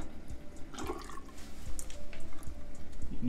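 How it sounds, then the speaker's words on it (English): Water runs steadily from an old, roughly 80-year-old bathroom sink faucet at low pressure after a galvanized nipple was replaced, a soft continuous splash with light drips, close and alone. "You notice the pressure was lower as the water is running"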